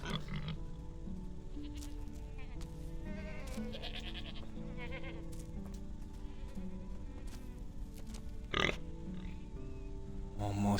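A pig in the video game Medieval Dynasty makes several grunting, bleating animal calls that are fairly close and come in short bursts, with a person talking over parts of it.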